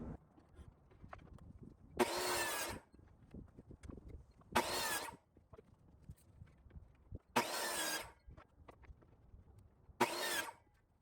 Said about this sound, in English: So I got my miter saw, and we're going to square the ends with that.